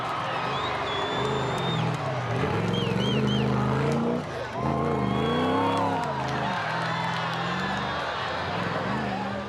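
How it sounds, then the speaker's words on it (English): A crowd cheers and whoops at the Safari Rally as Ian Duncan's bulky Ford Mustang rally car passes, its engine droning close under a voice talking throughout. "The biggest cheer was reserved for Ian Duncan, whose bulky Ford Mustang needed more room than the track offered"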